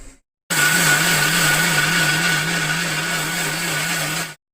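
A mixer grinder whirs steadily as it grinds beetroot dosa batter made with soaked urad dal, loud and continuous with a slight wavering hum, starting abruptly after a brief silence and cutting off at the end.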